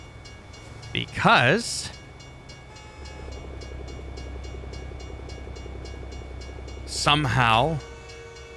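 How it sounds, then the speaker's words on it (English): Trains rolling past in American Truck Simulator, a steady low rumble and clatter of railcars throughout, with a loud train horn sounding near the start and again near the end while someone speaks briefly. "How many trains are going by the way?"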